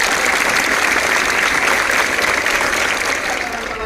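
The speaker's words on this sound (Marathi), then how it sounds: "एकदा जोरदार टाळ्या त्यांच्यासाठी" Loud, dense crowd applause at a protest rally in Amalner against harassment of a schoolgirl, sustained throughout and tapering slightly at the end, with no voices on top.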